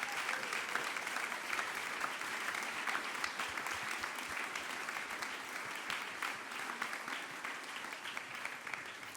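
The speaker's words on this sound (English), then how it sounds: "give a huge applause to all the board members" A large audience applauds board members standing up at a scholarship holders' welcome event, sustained dense clapping for several seconds, steady and fairly loud throughout.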